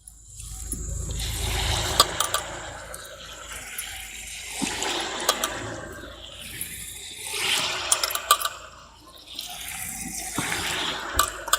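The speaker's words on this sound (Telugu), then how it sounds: "చూడండి ఆయిల్ హీట్ కూడా అయిపోయింది. ఇప్పుడు బోండా వేసుకుందాం." Mysore bonda batter goes into hot oil and fries with a loud, close, bubbling sizzle that swells and fades as each portion is dropped in.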